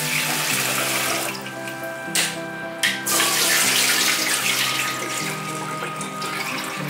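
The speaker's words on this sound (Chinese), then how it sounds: "用清水清洗糯米" Tap water runs hard over glutinous rice being washed in a sink, a loud, steady splashing rush with a brief dip and a short clatter partway through, close and without talk.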